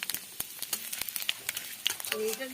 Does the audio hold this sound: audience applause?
no